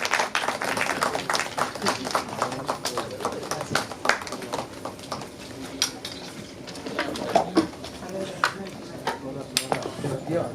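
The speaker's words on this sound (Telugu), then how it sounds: "అందరూ చప్పట్లతో వాళ్ళని ఆశీర్వదించండి" Audience clapping at a Telugu film press meet honour ceremony at Prasad Labs, a dense scatter of claps through most of the stretch, moderately loud, with a voice talking over part of it.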